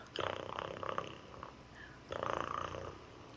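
A person imitates a cat's purr, a low rumbling drone in two separate bursts with a short pause between them, close and fairly quiet.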